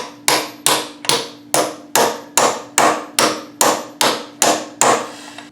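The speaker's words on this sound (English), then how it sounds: "Now I'm going to bop it in with a 27mm socket and the hammer" About ten evenly spaced metallic strikes of a big hammer driving a part in with a 27mm socket during a 1970 Fastback transmission swap, each ringing briefly before the next, loud and close.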